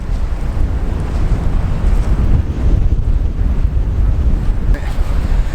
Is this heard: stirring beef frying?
no